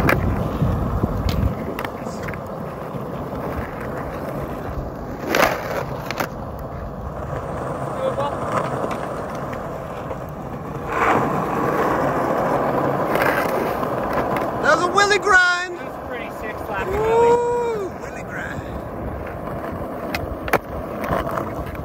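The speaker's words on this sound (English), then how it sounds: "He did not expect to do a willy grind." A skateboarder attempts a willy grind on a skate setup, wheels rolling and the board scraping and clacking in a few sharp bursts, heard under casual talk between skaters.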